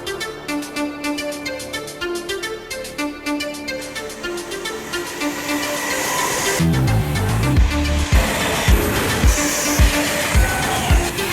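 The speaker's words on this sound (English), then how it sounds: "Please be aware that fast trains come through this station regularly." A loud Class 390 Pendolino high-speed train roars through a station at speed, a steady rumble that swells and turns into rapid rhythmic clatter of wheels over rail joints.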